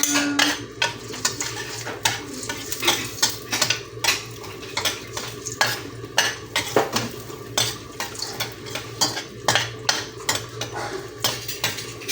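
Garlic stir-fries in a little oil for homemade pancit bihon, with frequent quick scrapes and clinks of a utensil against the pan, irregular and close, over a soft sizzle.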